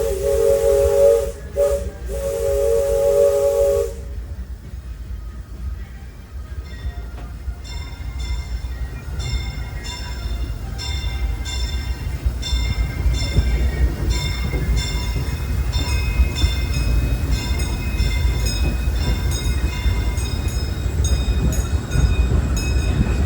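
Disneyland Railroad steam locomotive Fred Gurley sounds a loud whistle in short blasts, then runs on with rhythmic chuffing, hissing steam and rail clatter that builds steadily.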